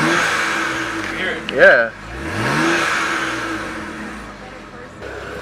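Car engine revving after an HKS blow-off valve install, one rising rev with a brief whooshing release in the middle, close by under short exchanges of talk.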